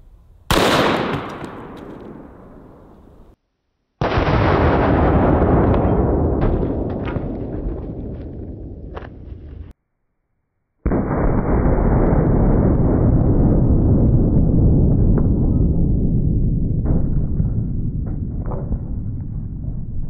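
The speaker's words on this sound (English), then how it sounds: "The 500 Smith & Wesson Magnum, and for this one, we're shooting a 440 grain hard cast underwood." Gunshots from a .500 Smith & Wesson Magnum revolver firing 440 grain hard cast rounds, with loud close blasts, each followed by a long rumbling decay.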